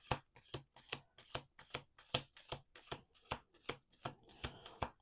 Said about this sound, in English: We're going to do 2 more shuffles.